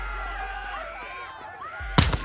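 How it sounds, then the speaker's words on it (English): Gunfire in the video game Modern Warfare II, a short loud burst of shots near the end over a steady game soundtrack and background hum. "We're taking fire."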